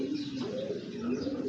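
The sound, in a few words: pigeons cooing in a loft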